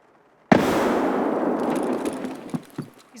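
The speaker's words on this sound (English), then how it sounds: "He's throwing a real nade." A grenade explodes in the shooter game Escape From Tarkov, one sudden sharp blast followed by a long roaring decay with a few trailing pops and debris sounds, loud and close, no talk.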